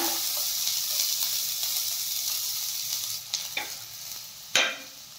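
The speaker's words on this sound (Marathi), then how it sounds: "कांदा छान सोनेरी रंग येईपर्यंत आपल्याला परतून घ्यायचा आहे" Chopped onion frying in hot oil with cumin seeds in a pan, a steady close sizzle with occasional stirring scrapes and a sharper clatter near the end, no voices.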